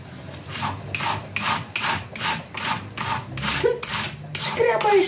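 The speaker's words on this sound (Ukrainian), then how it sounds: "Гляньте, як тоненько капусточка ріжеться." Cabbage being shredded thinly on a hand slicer: about a dozen even, rhythmic rasping strokes, close and fairly loud, each a quick scrape followed by a short gap.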